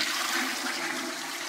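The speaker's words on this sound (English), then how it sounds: "will you flush the toilet" Toilet flushing close by, a loud rushing swirl of water that stays strong and steady before easing slightly at the end.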